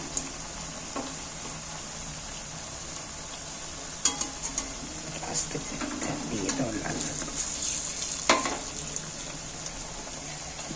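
Palm fritters sizzle in hot oil in a home kitchen, a steady quiet frying hiss broken by scraping and clinks as the pieces are flipped over.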